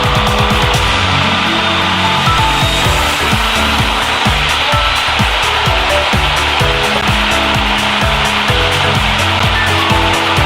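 A light aircraft's small piston engine drones loudly and steadily at high power during a run-up at 4000 rpm, its throbbing pulses constant throughout.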